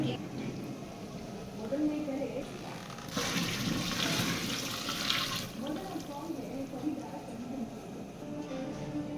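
Twenty litres of water gush into a large pot for tomato rice bath in a strong burst lasting a couple of seconds, with voices murmuring in the background before and after.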